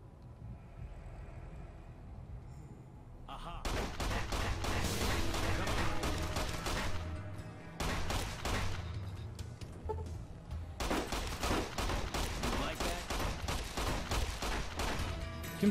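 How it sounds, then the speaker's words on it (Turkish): Rapid, dense bursts of gunfire in the video game Fallout New Vegas, loud and close, in two long stretches separated by a brief lull, with a quieter ambient stretch at the start. "Kim sıkıyor oğlum?"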